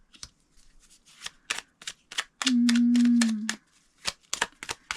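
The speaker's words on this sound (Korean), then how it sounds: "참고할 만한 카드 두 장만 뽑아볼게요" A deck of tarot cards is shuffled in a quick, crisp riffle of repeated flicks, then a sustained whirring riffle runs for about a second, followed by more rapid card flicks, close and clear with no talking.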